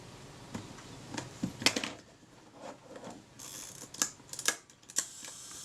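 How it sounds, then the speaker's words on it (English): Kodak Retina IIa camera shutter cocked and fired repeatedly, a series of small close mechanical clicks and ratcheting snaps in an irregular rhythm, with no talking. "the shutter fires there, cocks and fires there"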